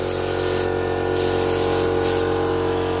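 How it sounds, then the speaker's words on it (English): A spray gun lays paint onto a custom car in a steady, loud hiss of atomized spray, broken by two brief pauses, with compressor hum underneath. "So why I'm spraying it so big is because I want to make sure when I mask it, I don't miss anything."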